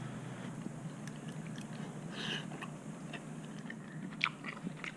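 Someone chewing freshly cooked, very hot homemade ricotta gnocchi, soft wet mouth sounds and faint squishy bites heard up close and quietly, with no talk.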